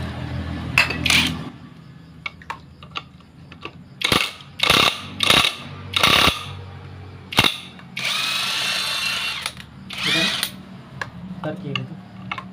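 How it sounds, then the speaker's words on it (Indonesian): An impact wrench turning the shaft of a jet water pump fires in several short, loud buzzing bursts, with clinks of metal parts and handling noises between them and someone speaking at times. "Kemudian ini kita putar dengan menggunakan impact."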